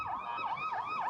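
Wailing emergency sirens sweep up and down in a steady repeating cycle, several rises within about a second, continuous and moderately distant with no speech over them.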